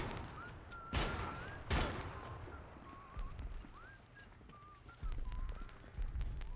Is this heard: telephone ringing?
no